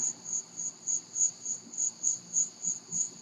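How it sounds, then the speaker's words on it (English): Crickets chirp outside on a back porch in a steady, evenly spaced pulse of high trills, loud and close with nothing else over them. "Yes, that is crickets. You hear crickets, yes."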